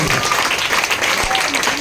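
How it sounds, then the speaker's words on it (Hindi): Loud crowd applause at a business summit as a leader is welcomed on stage, steady dense clapping throughout the short burst, with a voice speaking over it. "जोरदार तालियों के साथ"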